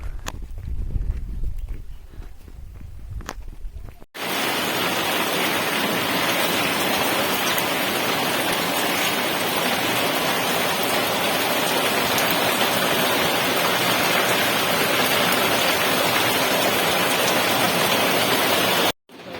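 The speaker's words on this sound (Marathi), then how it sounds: "आणि पाऊस पडायला लागलेला आहे." Steady, heavy rain falls on a hill village in Pachnai, hissing loudly and evenly after a few quiet seconds, continuing without a break until it cuts off near the end.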